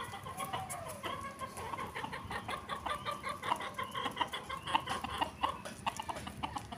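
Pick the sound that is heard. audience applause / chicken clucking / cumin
chicken clucking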